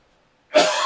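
A single loud cough bursts out abruptly after a near-silent pause, close and dry, with no talking around it.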